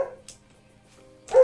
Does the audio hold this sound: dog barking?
yes